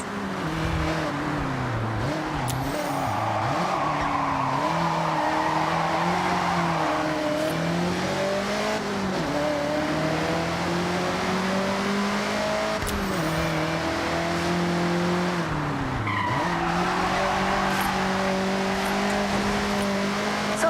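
Engines roar and rev continuously in the Forza video game, pitch sweeping up and down as tires squeal through long drifting slides, loud and close throughout.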